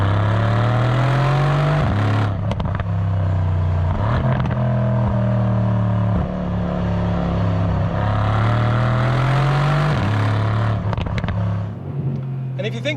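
A Mercedes C63S AMG's 580 bhp twin-turbo V8 drones at low pitch with rising and falling revs, several surges of acceleration, loud and steady throughout, with a voice talking over it.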